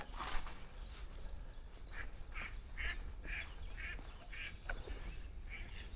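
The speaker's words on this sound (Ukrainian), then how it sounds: "Все, качок налякав." Wild ducks startled on a cold, frosty river while fishing, quacking in a quick series of nasal calls at moderate distance over steady outdoor background noise, with no talk.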